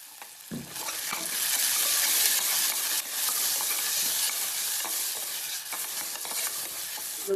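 Tomato masala cooked with turmeric in rice water sizzles loudly in a pan, a steady bright frying hiss broken by scraping strokes from a stirring spoon, with no talking.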